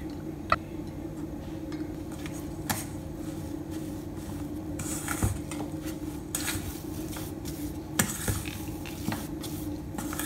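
Chocolate chip cookie dough is stirred in a bowl with a utensil, giving soft scraping and scattered light clinks and taps at irregular intervals over a low steady background hum.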